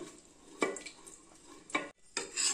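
Soft scraping and knocking of a utensil mashing cooked lentils for sambar inside a pot, a few brief strokes, quiet and close.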